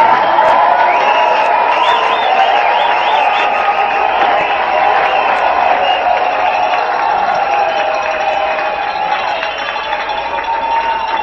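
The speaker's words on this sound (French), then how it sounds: "Maintenant, acclamez pour eux tous." An audience cheers and applauds at an event, a dense, steady wash of clapping and raised voices that holds loud and even throughout.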